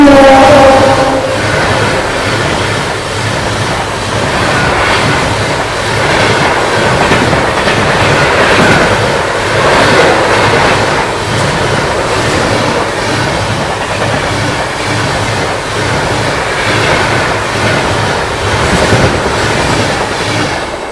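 The August Kranti Tejas Rajdhani thunders past on the adjacent track, overtaking a waiting Goa Rajdhani. A loud, steady rumble and rapid wheel clickety-clack run for the full twenty seconds, close by.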